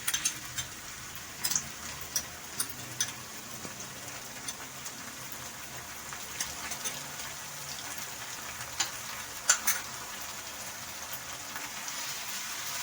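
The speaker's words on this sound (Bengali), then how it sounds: "পেঁয়াজটা একটু লাল লাল করে ভাজতে হবে।" Onion fries in a pan with ginger garlic paste for keema, giving a soft continuous sizzle with occasional crackles and stirring scrapes, fairly quiet and steady throughout.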